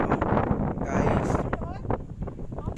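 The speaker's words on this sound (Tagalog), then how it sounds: "ang laki ng hangin dito" Heavy wind buffets the microphone in rumbling gusts on a ridge in Tanay, Rizal, with a person talking over it.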